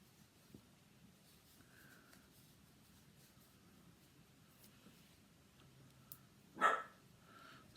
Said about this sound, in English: Sorry about the barking. My crazy dogs are here as usual.